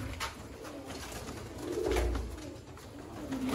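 Pigeons coo at a pigeon-keeping loft in Sialkot, a low soft cooing that swells near the middle over a steady hum of outdoor background noise, with no one speaking.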